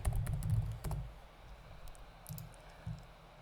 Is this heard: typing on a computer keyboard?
yes